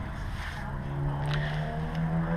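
A 5.3 V8 in a 1987 Chevy C10 truck with Flowmaster exhaust idles steadily with a smooth, even drone and faint tonal hum, close and moderately loud with no voices.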